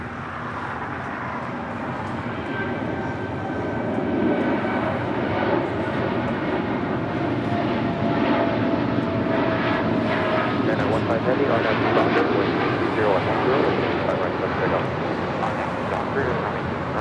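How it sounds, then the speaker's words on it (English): An Emirates Airbus A380 on short final to runway 24 left at Los Angeles LAX gives a steady, moderately loud jet rumble and whine that builds slightly partway through, with talk heard over it. "Emirates A380 Super now short funnel for 24 left there on the north side."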